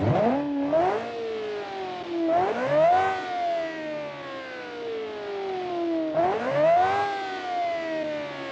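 Loud, close revving from a $9 million car with a faulty exhaust: three separate throttle blips, each a sharp rising whine that eases into a long, slowly falling drone, with no voices.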